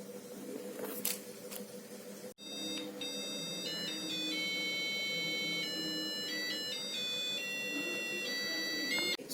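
A digital color table clock sounds its alarm with a steady, loud electronic melody of shifting beeping tones after a brief click, heard close with no talking.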